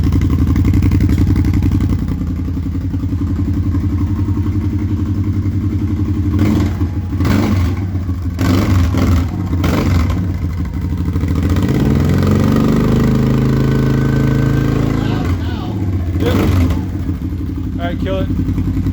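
A Kawasaki Teryx engine fitted with an MBRP exhaust idles loudly up close and revs in several throttle blips, with people talking over it.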